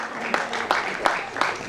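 An audience applauds at a stage event honouring the poet Dr Kunwar Bechain, a steady patter of clapping with a few sharper claps at a regular beat, moderately loud and mixed with a voice talking.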